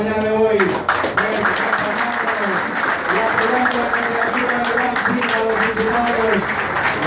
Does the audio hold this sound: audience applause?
yes